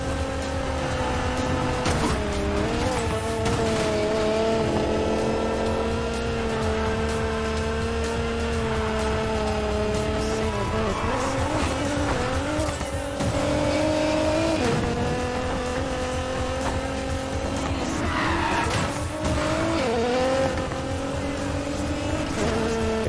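Race cars in Need for Speed Payback roar through shifting engine revs, rising and falling tones with bursts of tire squeal as they corner, loud and continuous throughout.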